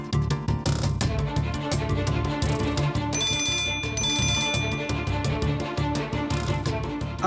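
A phone plays a melodic ringtone while an outgoing call waits to connect, a repeating electronic tune with bright chiming notes over a steady rhythm, moderately loud and without talk.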